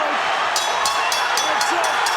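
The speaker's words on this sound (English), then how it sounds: "Listen to the crowd, folks." A boxing arena crowd roars during a Pacquiao–Marquez fight, a steady, loud wash of massed voices with no breaks throughout.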